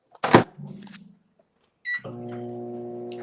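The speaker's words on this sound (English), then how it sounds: "I hear the microwave going." A kitchen microwave oven gives a clunk and a short beep, then starts up with a steady, close electrical hum that continues to the end.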